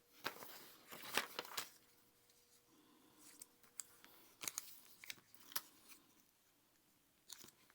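Scissors snip through fabric for a bag pattern, giving sharp, crisp cuts in irregular bursts with short gaps, close and fairly quiet, mixed with faint rustling of the material.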